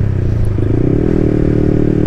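Yamaha YZF-R125 2019 with its VVA engine, on an evening country ride, drones loud and steady throughout, a continuous close engine note that rises slightly in pitch partway through.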